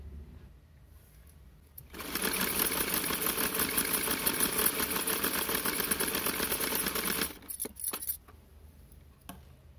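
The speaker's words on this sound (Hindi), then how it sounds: "अब इस पर हम सिलाई करना बताएंगे आपको" A sewing machine stitches cloth along the edges of a small festival outfit for a Laddu Gopal idol. It gives a fast, steady mechanical whir for about five seconds, then stops with a few short bursts near the end.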